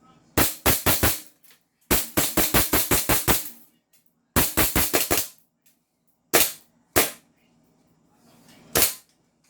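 CZ Shadow pistol shots at a range: sharp, loud, close cracks fired in quick bursts of several rounds, then slower single shots with short pauses between them.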